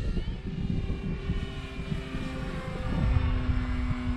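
A model propeller airplane, a Great Avios Grand Tundra, drones overhead in a high-speed pass with a steady whining pitch that rises as it speeds past, the engine swelling louder near the end.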